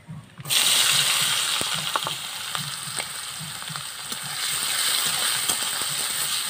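A bowl of chopped onion goes into hot oil with cumin and bursts into a loud, steady sizzle that holds throughout, with light stirring taps beneath and no talk.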